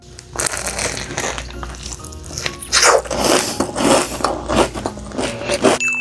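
Someone bites into a sandwich bagel cookie filled with cream, giving close, loud crunching and crackly chewing bursts, followed by softer mouth sounds.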